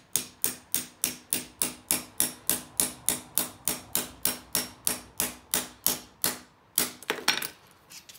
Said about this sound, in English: lightly tap it evenly